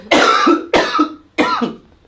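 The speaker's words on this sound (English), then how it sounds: "I'm gonna cough" Three harsh, close coughs in quick succession, each a sharp burst that trails off, with short gaps between.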